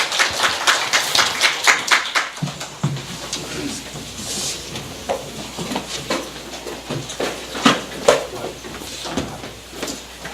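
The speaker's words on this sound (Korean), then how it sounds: "나오실 때 한번 박수로 찬양." Congregation clapping during an Easter church service as a missionary comes forward, a loose scattering of claps of uneven rhythm with some room noise, fairly close and moderately loud.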